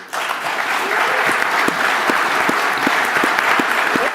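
A crowd applauds at a Bitcoin conference: sustained, full clapping that fills the room, with a few sharper individual claps standing out at a steady pace and no talk.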